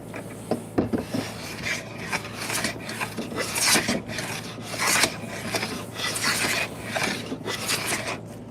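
Rhythmic rasping strokes of a hand tool cutting through a clamped piece of wood, loud and close, with repeated back-and-forth pulls.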